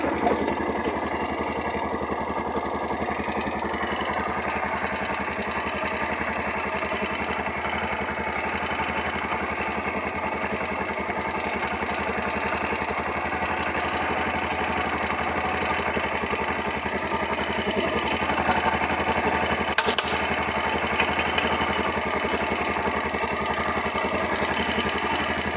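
A tuk tuk's engine idling steadily with its exhaust droning, a continuous rough, close mechanical rumble that holds level throughout with slight surges.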